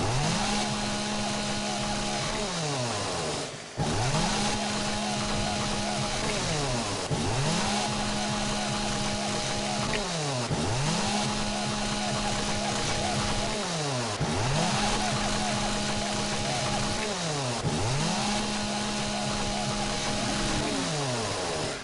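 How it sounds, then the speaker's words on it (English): Chainsaw from the 7 Days to Die video game runs steadily, its engine drone cycling through repeated rev swells every few seconds, loud and alone with no talking. "I haven't used the chainsaw in this playthrough yet, but I do know this thing is loud."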